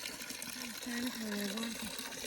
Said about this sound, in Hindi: अब इसमें पानी वानी भरो